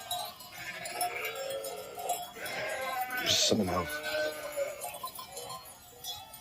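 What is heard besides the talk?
sheep bleating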